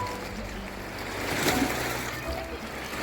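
The Sharda river, full of water where several rivers meet, flows in a steady broad rush and wash near the bank, with faint voices of bathers and visitors in the background.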